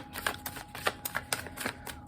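Tarot cards being shuffled by hand, a quick series of crisp riffling snaps in an irregular rhythm, close and clear with no talking.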